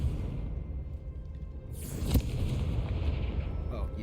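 A Confringo fire spell explodes in Hogwarts Legacy, a single sharp blast with a whooshing burst over a low, rumbling game background that lingers after the hit.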